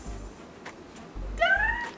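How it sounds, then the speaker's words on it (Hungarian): A 19-year-old cat gives a single drawn-out, close meow near the end, after quiet rustling and low thumps, with no talking. "Garfield egyébként a Levinek a cicája, és 19 éves"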